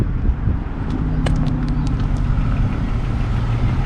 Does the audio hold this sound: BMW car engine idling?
yes